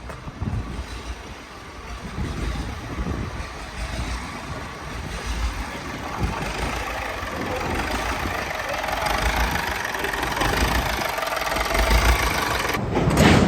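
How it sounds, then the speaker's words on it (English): Crop master farm machine engine running outdoors, a continuous rough mid-pitched rumble with knocking pulses that grows slightly louder over time, ending with a brief clatter. "Sounds like the crop master's now running."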